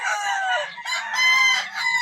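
A rooster crows loudly and close, one long cock-a-doodle-doo call with a second strained phrase following, no voices.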